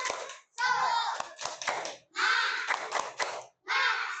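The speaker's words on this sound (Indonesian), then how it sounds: "Ayo, tepuk semangat." A school class performs a rhythmic clapping chant, with children's voices calling out in short bursts punctuated by sharp, close hand claps, separated by brief pauses.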